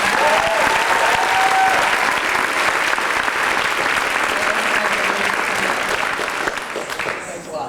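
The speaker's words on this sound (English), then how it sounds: "I'd like to get a nice round of applause for our MCs" An audience at a 1995 Rangila stage show applauds the MCs, with dense, loud clapping across the whole stretch that thins slightly near the end.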